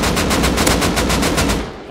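Rapid automatic gunfire in the survival game Rust rattles out in a fast, even burst of loud, close shots, roughly a dozen evenly spaced cracks, tapering slightly at the end.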